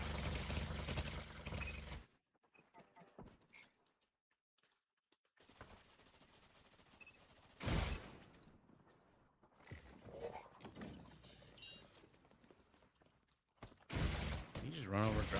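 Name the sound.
turret gunfire in the video game The Division 2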